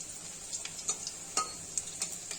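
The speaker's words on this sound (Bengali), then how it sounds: "খুব লোভনীয় বড়া ভাজছি আমি আজকে।" Small mourala fish fritters frying in hot oil give a steady, close sizzle, broken by several light clinks and taps of a utensil against the pan.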